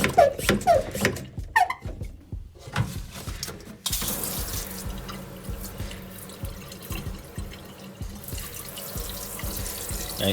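A DIY portable shower, rigged for rinsing off RC cars, sends out a steady stream of water that hisses and splashes close by for several seconds. It follows a few short sharp clicks and bumps, with no talking.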